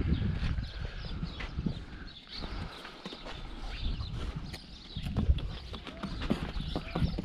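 A Quarter Horse mare walks nearby, her hooves clip-clopping in a steady rhythm over faint background noise.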